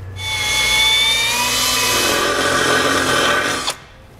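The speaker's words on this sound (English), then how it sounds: "Now we'll drill out the hole in the location marked on the template." A power drill bores a pilot hole through wood, a steady loud whirring grind that runs close and unbroken for about three and a half seconds, then cuts off abruptly and spins down.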